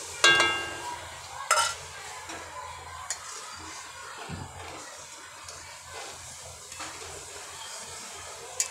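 A spoon stirs 1.5 litres of milk thickened with milk powder in a pot, giving soft close scraping and swishing with a couple of louder clanks near the start.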